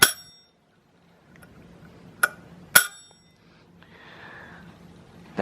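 An antique brass counter bell from around 1870–1880, rung by turning its knob with no side strike, gives three bright, ringing dings spaced apart, each decaying quickly, close and clear with quiet handling noise between.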